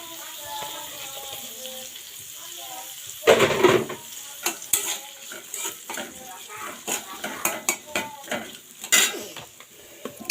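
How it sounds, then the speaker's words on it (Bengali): Onion browning in oil left over from frying morola fish sizzles steadily, broken by bursts of stirring and metal utensils clattering against the pan. "এই তেলেতে আমি পেঁয়াজটা একটু ব্রাউন কালার করে ভেজে নিব।"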